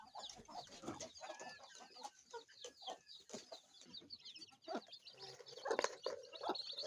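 Farm chickens cluck and squabble while scrambling for feed, a busy cluster of short overlapping clucks and calls with occasional louder squawks, fairly close but at low overall level.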